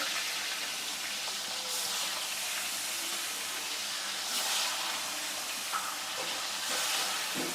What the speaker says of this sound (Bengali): বিসমিল্লা করে মাছগুলো ভেজে নিচ্ছি